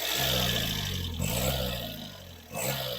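A car engine revs up and down as the throttle body is moved by hand, a steady mid-level hum that rises and falls in a couple of short swells.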